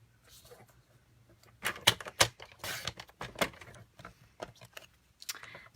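A paper trimmer slices through card stock in a few sharp, close strokes and clicks, with faint handling noise between cuts and a quiet voice talking.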